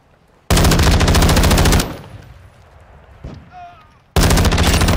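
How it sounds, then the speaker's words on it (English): Heavy automatic gunfire in a first-person shooter video game: a loud, dense rattling burst lasting over a second, a quieter stretch with faint in-game sounds, then another loud burst at the end. "why am I getting shot from every direction?"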